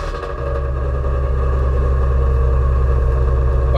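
A Ford Mustang V8, Shelby GT350 or Boss 302, fires up and settles into a steady, deep, loud rumbling idle close by, with no talking.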